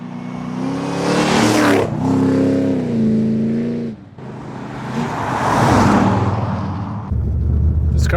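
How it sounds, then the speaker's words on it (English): A project car's engine revs hard several times close by, rising and falling in loud sustained pulls with brief gaps between, the tone sweeping up through each throttle blip. "This car sounds so good."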